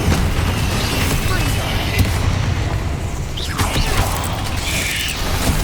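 Incendio fire spell in the Hogwarts Legacy video game, a loud rumbling blast with mechanical clanks and creaks over a dense, continuous game soundscape.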